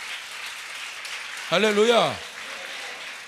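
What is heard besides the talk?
congregation applause in church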